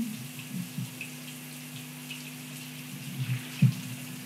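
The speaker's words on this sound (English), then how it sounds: "I'm just gonna take a shower in here." A shower runs in The Sims 3, a steady hiss of falling water with a low hum and a few soft splashes and knocks, heard alone without talk.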